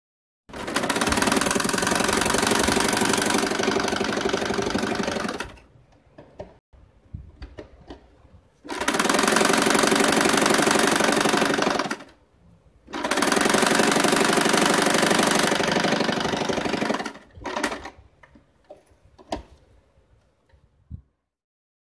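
A sewing machine stitches pieces of a cloth bag made from leftover fabric, running loud and steady in three long bursts of rapid mechanical chatter, with quiet handling noises and short pauses between runs.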